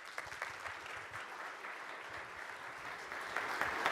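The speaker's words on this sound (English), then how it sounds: "let's get a round of applause for Julia Grace." Applause from a conference audience welcoming a speaker at a tech event on hardware and robotics, steady dense clapping that swells slightly toward the end, with no voices over it.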